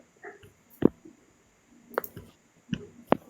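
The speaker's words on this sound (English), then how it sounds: "I'm clicking on it, but" Computer mouse clicks, a handful of sharp, isolated taps spaced irregularly over a quiet background, close and fairly faint.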